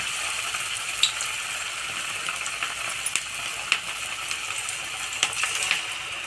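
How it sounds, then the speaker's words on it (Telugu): Cabbage manchurian balls deep-frying in hot oil over a medium flame, a steady close crackling sizzle with scattered sharp pops and spits, no voices. "ఇలా వేయించుకోవాలండి గోల్డెన్ బ్రౌన్ కలర్ వచ్చే వరకు"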